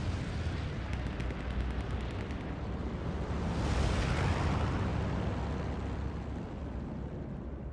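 Tank combat in the Hell Let Loose video game, a dense, continuous roar of explosions and rumbling gunfire with a faint rapid rattle early on, loud and unbroken throughout.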